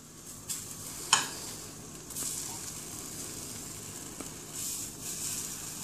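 An egg sizzles on melted cheese in a Gotham Steel pan, a steady close frying hiss broken by a few sharp clicks and scrapes, no talk.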